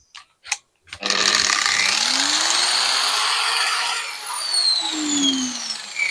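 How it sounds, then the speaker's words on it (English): An electric angle grinder powered through a portable inverter power station spins up after a couple of short clicks, then runs in a steady loud whine with a shifting pitch. "So plug my grinder in"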